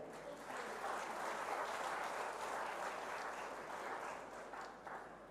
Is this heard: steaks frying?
no